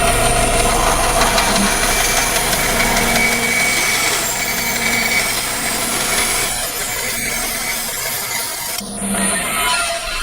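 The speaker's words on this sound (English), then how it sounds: "So cutting out the first curve on the bandsaw here." A bandsaw cuts a curve through a wooden workpiece for a Chapin high chest, a steady close motor drone with continuous rasping blade noise that shifts slightly as the cut progresses, briefly dipping near the end before resuming.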